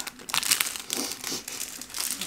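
A small item is unwrapped from crinkly paper, giving a close, busy run of rustles and crackles that lasts throughout, with no one speaking.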